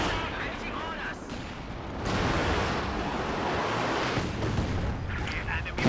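Artillery barrage in a real-time strategy video game, heavy booming impacts and rumbling explosions piling into a dense continuous roar, with a commentator talking over it.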